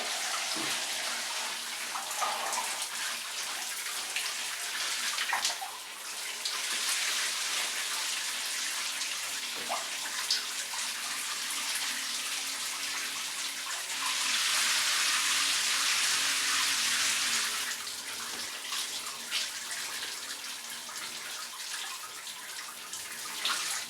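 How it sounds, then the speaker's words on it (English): Tap water runs steadily for a long stretch while a basin or tub fills during a hair-washing routine, a constant broad hiss with a brief dip and a louder, fuller rush midway, with no talking. "So I'm just going to fill it up with water."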